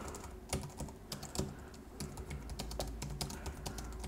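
Typing on a Logitech MX Keys Mini keyboard, with soft, close, quick key clicks in an uneven rhythm over a quiet room hum.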